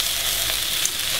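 Mushrooms, spinach and garlic frying in a pan give a steady, close sizzle with a faint crackle on top, continuous and even, with no talking.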